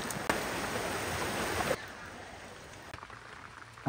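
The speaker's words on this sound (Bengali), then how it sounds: "বৃষ্টি দূরে নেমে পড়ছে" Steady rain falling in a rural Bangladeshi yard, a dense even hiss of drops that drops to a softer patter halfway through.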